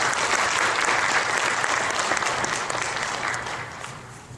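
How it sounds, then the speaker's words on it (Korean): A church congregation claps to welcome a guest pastor to the pulpit, steady dense applause filling the room and gradually thinning toward the end. "우리 목사님 박수로 환영하도록 하겠습니다."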